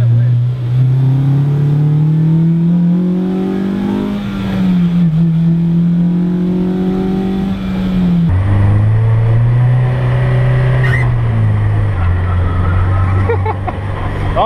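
A Toyota AE86 Corolla fitted with a Honda S2000 engine, driven hard from inside the cabin: a loud, close engine note rises through the revs, drops sharply at a gear change, then climbs again. A voice talks over it.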